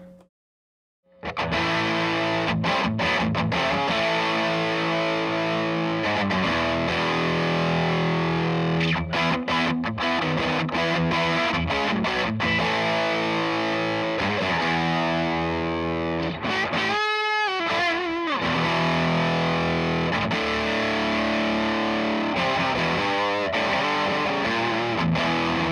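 Electric guitar played through a Barber Edge Hog distortion pedal, loud harsh fuzzy chords and riffs ringing continuously after a brief silence, with a short break near the middle, no talking.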